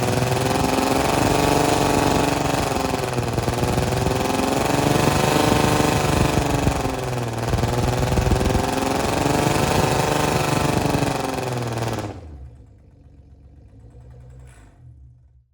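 A Jaguar car engine revs hard and loud close by during an attempted neutral drop burnout, with two rising and falling pulls over about twelve seconds before cutting out to a low idle, with no talking.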